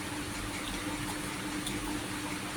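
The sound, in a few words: water poured onto grated soap for grape soap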